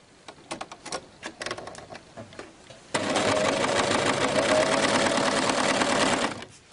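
An overlock serger gathering tiered skirt fabric with a gathering foot: a few short stuttering bursts of stitching, then a loud, steady, rapid mechanical whir running for about three and a half seconds before stopping, close up and alone.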